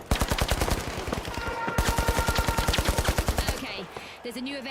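Rapid bursts of automatic gunfire from the online shooter The Finals rattle steadily for several seconds, loud and close, with a tonal hum beneath and a brief shift to other game effects near the end.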